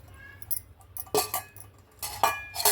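A metal mesh strainer set down on a pot of homemade herbal hair oil, giving a few light metallic clinks and scrapes at irregular intervals, close and fairly quiet with no talking.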